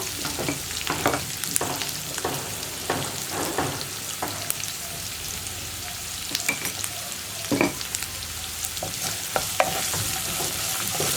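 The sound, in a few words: onions being stirred and sautéed in a pan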